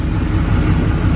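A truck's engine, continuous low rumble close by, steady and loud with no pauses or clear start transient across the short stretch.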